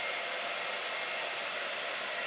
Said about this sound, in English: when she turns on the hair dryer, my mic goes